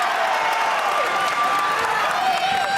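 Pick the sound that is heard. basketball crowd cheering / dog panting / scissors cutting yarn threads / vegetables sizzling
basketball crowd cheering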